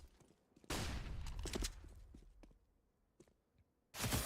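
MP9 submachine gun bursts in Counter-Strike 2 during a pro match, rapid loud volleys of fire, a pause with scattered clicks and shots, then another burst at the end.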